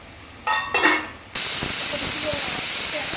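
A pressure cooker full of dal on the stove lets go of a sudden loud, steady hiss of steam after a few short bursts. The release keeps running without a break to the end.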